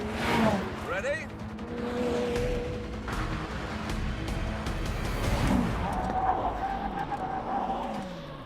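McLaren Senna and Jaguar F-Type braking hard from 100 mph on a test track, engine roar and tire noise rising and falling as the cars slow, heard from nearby with a person talking over it.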